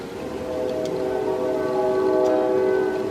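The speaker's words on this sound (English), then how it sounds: "Sorry about the train." A train rumbles steadily nearby, its low continuous drone swelling slightly over a few seconds with a faint horn-like tone.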